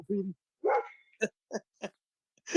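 A dog barks several short, separate times in a rhythmic run, close and fairly loud, with a person speaking briefly beforehand in a casual indoor setting.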